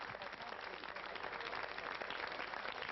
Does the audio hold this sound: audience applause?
yes